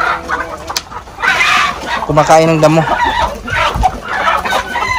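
Chickens cluck and squawk close by on a farm with hundreds of birds in a range and cages in Malaybalay City, Bukidnon, several birds at once, with someone talking over them.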